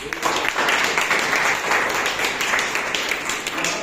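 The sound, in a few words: applause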